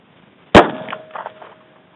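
A single loud, sharp shot from a SIG P238 pistol loaded with 90 grain jacketed hollow point rounds, followed by a brief metallic ring and faint clattering as the slide jams on a failed feed.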